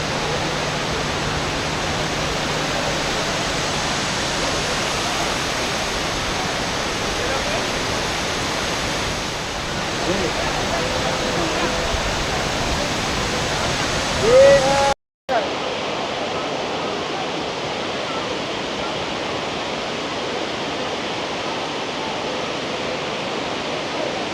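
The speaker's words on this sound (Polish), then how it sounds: "piękne nie tylko sam wodospad, chociaż wodospad robi największe wrażenie" Tumpak Sewu waterfall in Indonesia roaring as a steady, dense rush of falling water close by, broken by a brief sharp cut midway before the constant roar resumes slightly duller.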